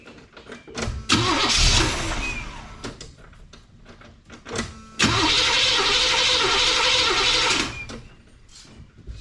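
The engine of a 1979 El Camino SS with no choke is cranked twice, loud and close. Each attempt catches into a rough, uneven roar before fading, and the second run holds longer before dying away.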